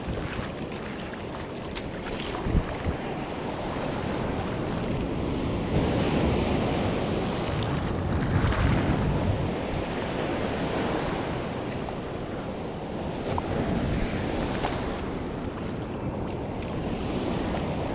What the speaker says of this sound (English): Kind of fun to paddle along in a little bit choppy water here.